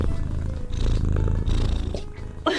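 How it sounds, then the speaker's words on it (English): A pet cat purrs loudly and close to the microphone in a steady rumbling drone that runs through the whole moment, with a brief scratchy rustle near the end. "She's such a loud purring cat."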